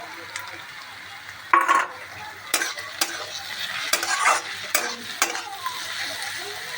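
A fried egg is stirred into chowmein with tomato and green chilli in a sizzling pan. Repeated spatula scrapes and clinks against the metal run over a steady frying hiss.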